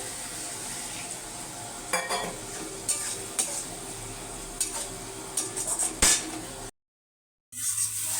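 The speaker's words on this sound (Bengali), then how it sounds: "ভালো করে কষিয়ে নেব" Onion and tomato sauté in a pan for a tilapia curry, a soft steady sizzle broken by several sharp spoon clinks and scrapes, then a short silent gap before the frying resumes.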